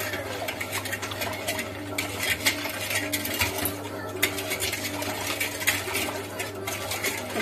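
A spoon stirs sugar into homemade badam milk in a cup or pan, giving a steady run of light metallic clinks and scrapes up close, with no talking.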